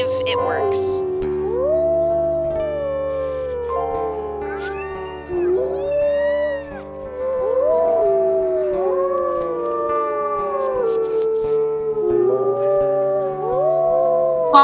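Several wolves howl together in a multiplayer video game, overlapping rising and falling tones layered thickly across the whole stretch, loud and close, with a game soundtrack droning underneath.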